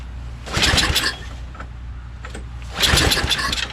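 A Tecumseh 5HP engine on a Simplicity 24-inch two-stage snowblower, choked at full throttle, cranks in two loud bursts that catch briefly and die, with a quieter idle-like gap between them.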